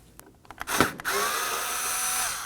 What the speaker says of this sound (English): Using a Phillips head screwdriver, we're going to remove these 4 Phillips screws.